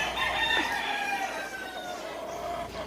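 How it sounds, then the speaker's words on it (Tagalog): Fighting roosters: one crows loudly and close by, its call stretching out, with a few clucks and farmyard background noise. "Ano to, panabong ng mga manok?"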